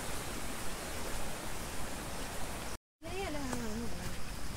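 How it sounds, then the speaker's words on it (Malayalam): Steady roar of water falling at Kattikkayam waterfall, a dense continuous rush that fills the whole stretch, briefly cut off near the end before resuming with a voice heard over it. "വെള്ളം വീഴുന്ന നല്ല സൗണ്ട് ഉണ്ട് കേട്ടോ"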